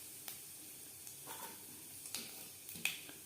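Whole five-spice seeds, panch phoron, crackle in hot oil in a wok that has just fried fish, a quiet hiss broken by a few sharp pops and spits spread unevenly.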